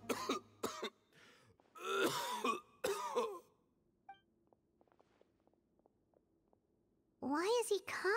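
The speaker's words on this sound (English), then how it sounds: "Why is he coughing so much?" Several harsh, close coughs and throat clearings from a game character come in bursts, then quiet with faint clicks, before another raspy coughing fit at the end.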